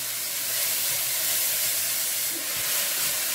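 Garlic and grated ginger sizzling in a pan with chicken, a steady, even hiss of frying holding level throughout, close and unbroken with no talk.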